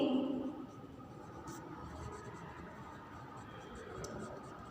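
Pen scratching across paper in a notebook while taking notes for an eighth-grade English lesson, a soft, steady scribbling close by with a faint voice briefly at the start.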